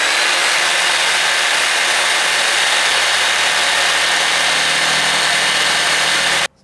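A saw blade grinds through the weld on an exhaust pipe. The cutting is loud, harsh and steady for several seconds, then stops abruptly at the end.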